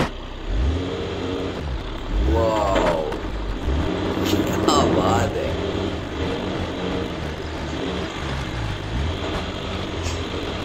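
A car rolls over rocky terrain in high gear with a loud, steady engine and tyre rumble that rises and falls, and someone talks over it at times.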